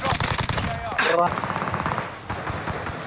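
Rapid automatic gunfire rattles through a video game firefight, dense and loud, with a burst of other game effects partway through and a player's voice talking over it.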